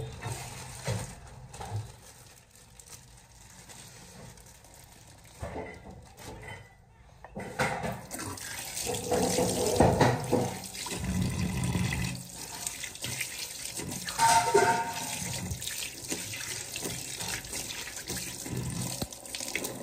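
Water running from a tap into a sink at home, a steady rushing splash that swells louder midway, with occasional clatter and a person speaking briefly.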